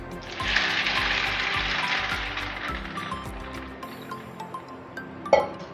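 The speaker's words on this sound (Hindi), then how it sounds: "इसमें हम पानी डाल देंगे" Water is poured into a bowl of chickpeas with baking soda and a tea bag, a bright splashing gush that tapers into lighter trickling, ending in a small clink.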